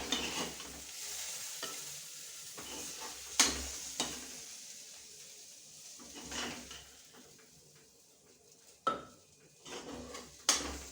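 Tadka is poured into dal for daal pidhi, giving a soft sizzle under spoon stirring and sharp metallic clinks of utensils against the pot, fairly quiet and close.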